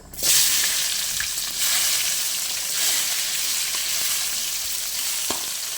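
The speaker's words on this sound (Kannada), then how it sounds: "ಅದಾದ ಮೇಲೆ ಸ್ವಲ್ಪ ಸಾಸಿವೆ ಫ್ರೆಂಡ್ಸ್ ಇವಾಗ ಈರುಳ್ಳಿ ಹಾಕೋತೀನಿ" Chopped onion sizzles loudly in hot oil with mustard seeds, a dense, continuous crackling hiss broken by a few light stirring clinks.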